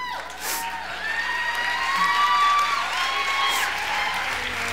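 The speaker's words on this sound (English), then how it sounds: "Give her a hand. You have to clap longer." An audience at a church event claps steadily, with applause rising and holding for several seconds and a few faint cheers mixed in.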